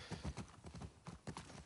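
Horse hooves clip-clop in a steady rhythm in The Last of Us Part II, a close, moderately loud walking gait of repeated paired thuds with nothing else over it.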